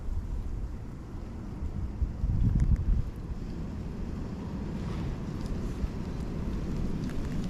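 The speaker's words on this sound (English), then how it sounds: "that wind is ripping today" Strong wind buffets the microphone while jigging from the shore of a deep pool, a steady, loud low roar with a heavier gust swelling around the middle and no speech.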